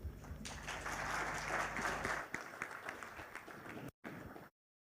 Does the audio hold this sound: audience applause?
yes